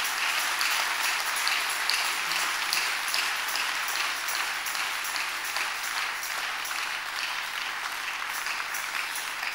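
Church congregation clapping steadily for the whole stretch, a dense, even wash of many hands without pauses or talk over it.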